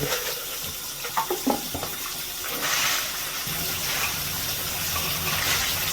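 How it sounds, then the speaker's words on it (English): Tap water runs steadily over spent brass cartridge cases being rinsed clean for reloading, a close, even gush with a few splashy bursts early on. "Just rinsing them out until they nice."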